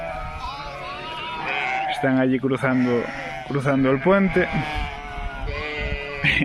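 Several sheep bleat in short, wavering cries close at hand, overlapping and repeating a handful of times, while a person speaks over them.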